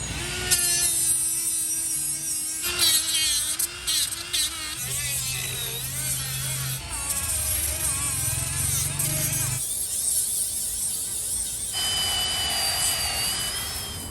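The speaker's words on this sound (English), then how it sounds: "we're gonna use our Milwaukee die grinder and probably wire wheels to get all the paint off of the areas we're gonna be welding" A Milwaukee die grinder with a wire wheel stripping paint off metal on a 3rd-gen Toyota 4Runner during a solid axle swap, a loud high whine that shifts in pitch as it bites and eases, close and continuous.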